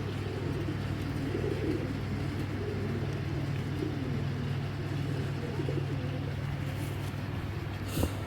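Racing pigeons coo in a steady low, throaty drone close by, with a faint hum of passing cars and engine noise in the background.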